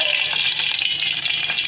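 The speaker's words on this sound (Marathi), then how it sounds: "खूपच छान तडका लागतो मग आमटीसाठी" Spices and ghati masala sizzle in hot oil as a tadka for Marathi amti, a loud close crackling fry that continues steadily with stirring throughout.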